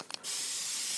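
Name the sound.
cooking spray coating the pan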